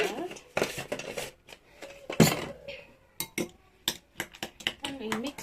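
Cutlery clinks and scrapes against a bowl in short irregular bursts while eggs for a Spanish omelette are mixed, close and moderately loud, with brief pauses between strokes.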